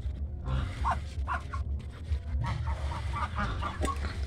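Chickens cluck and squawk amid a busy, noisy outdoor backdrop, with scattered bird calls rising over steady low rumble.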